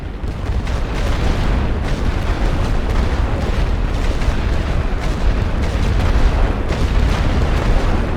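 Heavy artillery barrage in a Great War Western Front game, with continuous loud rumbling blasts and overlapping booming shell impacts that merge into a dense roar with no pause.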